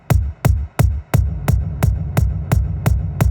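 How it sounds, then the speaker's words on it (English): Nine evenly spaced kick drum hits from a drum and bass track's drum stems, with a heavy, booming low end, each trailing into a long reverberant wash; no voices. "Kick with a big reverb on it."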